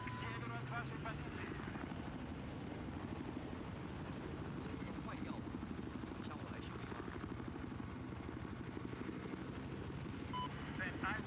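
A helicopter in the video game Battlefield 4 drones with a low, steady rotor thrum at a quiet level, joined by scattered in-game effects and brief electronic beeps.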